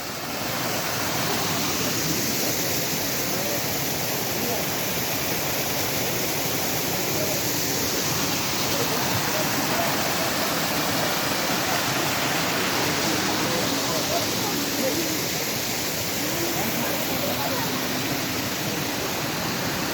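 A very small waterfall roars steadily and close, a dense, continuous rush of falling water that holds at an even loudness throughout.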